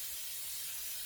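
Pam cooking spray is sprayed onto a baking dish for a quiche, giving one short, steady, close aerosol hiss with no talk.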